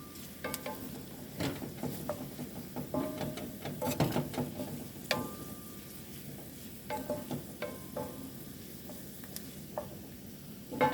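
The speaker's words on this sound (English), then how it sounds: "Waiting for our onions to brown a little bit, then we'll add some sausage" Chopped onions sizzle and fry in a pan for an omelet, a steady soft crackle broken by clicks and scrapes of stirring, fairly quiet and with no talk.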